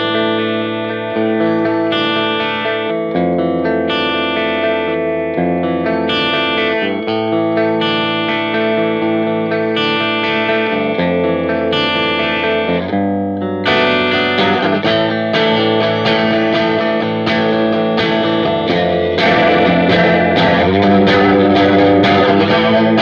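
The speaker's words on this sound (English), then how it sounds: "I'm going to use my Mosrite, the Ventures model," Mosrite Ventures model electric guitar with high-output pickups played through a PastFX Kurt's Cologne chorus pedal: loud, continuous strummed chords with a shimmering, slightly distorted chorus sound, playing alone.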